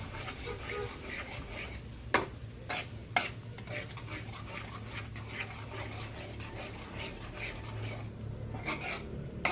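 Ground black pepper is stirred into a pan, giving a continuous quiet scraping and stirring rasp over a faint frying sizzle, with a few sharp clinks of the utensil against the pan.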